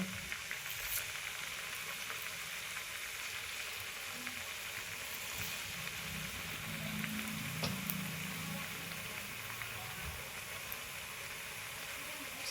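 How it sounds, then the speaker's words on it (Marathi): Chakli fry in hot oil with a steady, even sizzle and bubbling that carries on throughout, close and moderately loud, with no talk over it. "गरम तेल झाल्यानंतर असं सोडून घ्यायचं आणि वर चांगला खरपूस होईपर्यंत भाजून घ्यायच्या"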